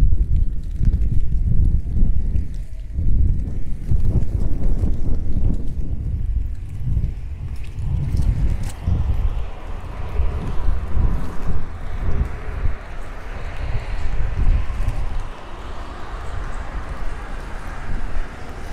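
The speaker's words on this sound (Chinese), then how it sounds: "风很大，风很大。" Strong wind buffets the microphone on the Shanghai Bund, a heavy rumbling roar that gusts and eases over about twenty seconds, with no voices.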